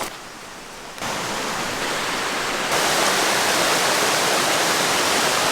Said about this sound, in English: It's an 80-foot waterfall surrounded by red rock, and it looks beautiful.